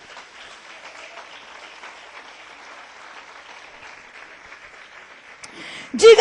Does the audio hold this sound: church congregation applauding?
yes